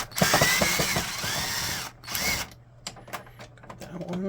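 Small screw being removed from an HP DeskJet 4155e printer, with brief whirring and clicking bursts from a screwdriver, close up, under and between a person's talking.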